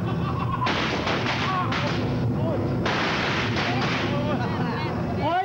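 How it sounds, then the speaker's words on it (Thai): Firecrackers set off in a busy scene, a dense run of sharp cracks and pops that overlap into a continuous loud crackle, with voices mixed in underneath. "ไม่ได้ยิงเลยเขาจุดประทัดกันเพียบ"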